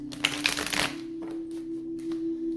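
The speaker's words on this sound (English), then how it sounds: "One last shuffle." A tarot card deck being shuffled up close, a quick burst of riffling card noise at the start that fades to a quiet hum with faint soft rustles afterward.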